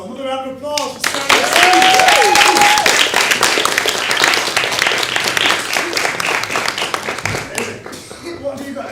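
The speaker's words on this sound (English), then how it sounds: "Another round of applause for Sarah" Crowd applause for a singer named Sarah at a small climate-justice mini-festival, a loud dense wave of clapping that swells and then fades, with a voice speaking before and after.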